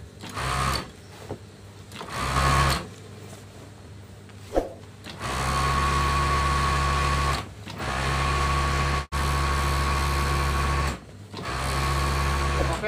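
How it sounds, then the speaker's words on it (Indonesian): An overlock serger stitches along the edge of a quilt cover in loud, steady mechanical bursts, running for a few seconds, pausing briefly, then starting again several times with no talking. "sekarang kita sudah di mesin obras, dan sekarang saya akan mengobras bagian pinggiran ininya ya"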